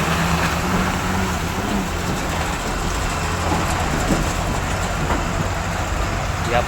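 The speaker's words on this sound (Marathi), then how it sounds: "हा मोठा ट्रक आहे" A large truck rolls across the Ghodbunder road bridge, its broad, steady engine and road rumble filling the scene continuously amid dense surrounding traffic noise.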